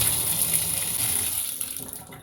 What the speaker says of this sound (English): Hear that sound? That means it's all going down.